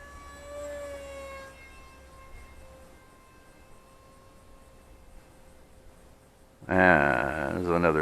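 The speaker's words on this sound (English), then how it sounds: "There's another plane." A small radio-controlled model airplane whines overhead with a rising and falling tonal drone that fades gradually; near the end, loud speech or other close sound cuts in abruptly.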